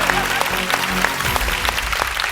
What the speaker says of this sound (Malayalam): അവനൊരു കൈയടി കൊടുത്തു